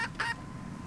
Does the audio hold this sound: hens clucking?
yes